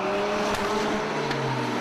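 GT race cars roar around the Oulton Park circuit during a 2021 GT Cup race, engines droning in layered steady tones with brief bursts as cars pass, continuous and fairly loud with no speech in the moment.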